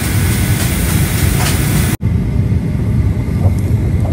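Steady, loud broadband roar of an airplane cabin heating and air system on a cold day, continuous throughout with a momentary break partway through and no talking.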